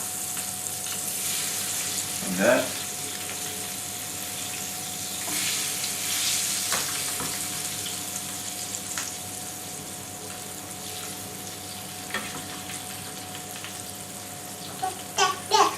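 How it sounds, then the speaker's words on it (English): Beans sizzle steadily in a hot frying pan, with a few scrapes and clinks of a spoon and a brief spoken remark. "just add them into the frying pan, or cooking pan"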